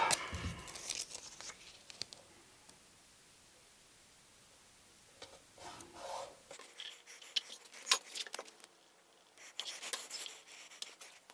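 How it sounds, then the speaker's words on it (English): Masking tape is pulled from the roll, torn and pressed onto pre-finished wood on an executive desk build. Quiet, scattered ripping and crinkling bursts come up close, with no voices. "we're going to tape that off"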